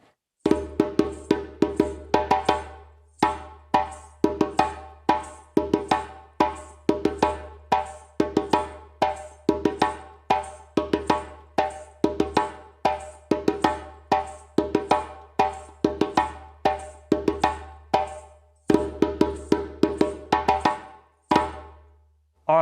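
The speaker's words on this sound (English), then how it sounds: "First accompaniment for the rhythm Fe." Djembe drums play the first accompaniment for the West African rhythm Fe, a steady repeating pattern of sharp slaps and deeper bass tones, crisp and close, running unbroken with a short gap near the end.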